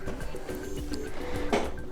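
The lid of an HP Officejet Pro 6960 all-in-one printer is opened, with light plastic rattles and creaks followed by a firmer clunk near the end, heard close and without talk.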